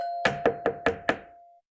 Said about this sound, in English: And I will knock.